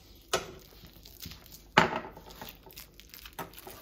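A knife cuts into medicine packaging, giving a few sharp scraping clicks and one louder rasping cut, quiet and close with pauses between.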